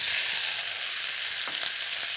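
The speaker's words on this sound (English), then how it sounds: "And hear that? That's a good sizzle." Shellfish shells for a French seafood stew sizzle in a hot pan, a steady bright crackling hiss with a few soft scraping stirs near the end.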